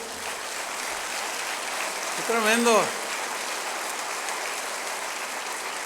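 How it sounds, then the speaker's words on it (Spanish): Applause from a church congregation during a sermon, a soft, steady patter of many hands beneath a voice that speaks briefly over it. "Sí, denle otro aplauso."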